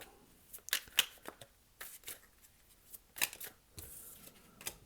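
Tarot cards are shuffled softly close by, with quiet riffles and papery snaps spread unevenly over a few seconds and no voices.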